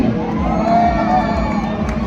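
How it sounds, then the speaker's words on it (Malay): Spectators at the Kanowit powerboat race semifinal cheer and shout, a loud, continuous crowd roar with excited voices and whoops blending together, while no distinct clapping stands out. "Dan tepukan kepada warna putih, tepukan kepada warna putih."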